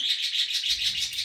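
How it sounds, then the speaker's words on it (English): Pet birds chirp indoors in a kitchen during baking, a continuous run of quick, bright tweets and trills sounding fairly close and loud, with no talking over them. "Please excuse my birds."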